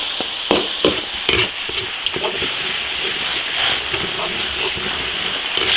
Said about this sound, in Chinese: 花椒、辣椒酱、牛肉酱，炒香。